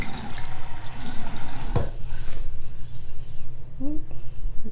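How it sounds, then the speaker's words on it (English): A stream of water pours and splashes onto waterproof coated bag-making fabric, a continuous close trickle with a sharp tap partway through. Faint background noise sits underneath. "I'm gonna do the stream of water."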